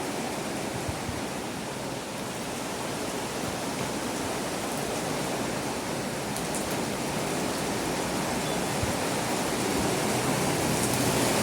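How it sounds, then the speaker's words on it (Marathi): Heavy rain hisses in a dense, unbroken wash of noise, growing slightly louder toward the end, with no voices heard. "बघा परत जोरदार पाऊस आला"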